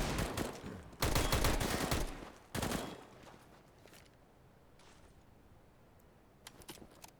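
Bursts of automatic rifle fire in Counter-Strike on the de_dust2 map, two loud sustained volleys followed by quieter scattered shots and faint distant pops.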